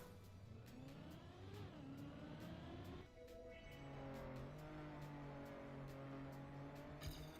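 Desert car from the Trackmania video game, its engine droning and revving loud and steady as it drives, pitch climbing and dropping through gear changes, with a brief skid-like burst near the end.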